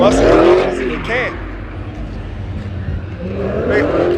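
At a car meet in South Carolina, a drifting car slides with a loud tire squeal and a revving engine, fading for a moment and then returning as the car goes round. People talk loudly over parts of it.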